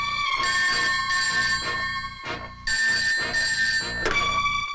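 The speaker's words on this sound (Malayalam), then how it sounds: "ദാ ഫോൺ അടിക്കുന്നു, അതെടുക്കൂ സാർ" An old telephone rings in two long bursts separated by a short pause, a bright, steady electric bell tone, close and clear with no talk over it.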